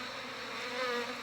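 Honey bees buzzing in a steady, close drone at an opened hive colony in Durango, Colorado, the hum continuous and unbroken with no voices.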